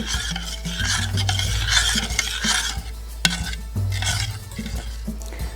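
A spoon stirs sugar in a pot to dissolve it, a steady close scraping and swirling that goes on without a break, with no voices.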